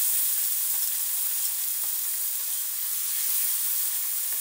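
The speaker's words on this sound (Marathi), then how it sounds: "टोमॅटोला फ्राय होऊ द्या." Tomatoes frying in a pan with curry leaves, a steady soft hiss and sizzle with faint crackles throughout, close but gentle, with no voices.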